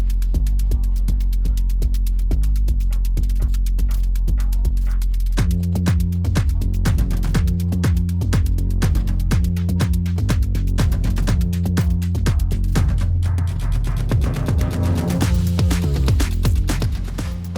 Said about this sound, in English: vacuum machine has done its magic